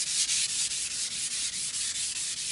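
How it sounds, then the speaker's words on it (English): Block sanding of primer with 320-grit paper on a soft pad makes a close, rhythmic scratchy rasp, with even back-and-forth strokes repeating about every quarter second and no voices over it. "you could hear the sanding change pitch from this rough to how it smooths out"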